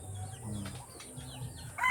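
Backyard chickens cluck softly in short bursts nearby, a few low murmuring calls with a brief louder squawk at the end.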